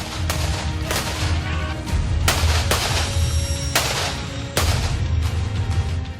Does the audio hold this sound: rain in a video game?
no